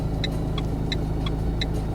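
A car idles in place with a steady low rumble, while the sound of a vehicle on the road carries behind it, and a faint beeping repeats at a regular pace throughout.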